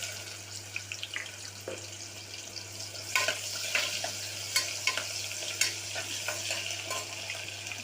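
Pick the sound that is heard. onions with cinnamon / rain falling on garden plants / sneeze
onions with cinnamon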